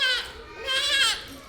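A child imitates a goat with two wavering bleats, a close and fairly loud vocal sound.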